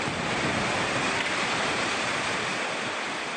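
A flash flood in Bali near Denpasar sends a river surging past, a dense, constant roar of rushing water with no pauses, loud and close throughout.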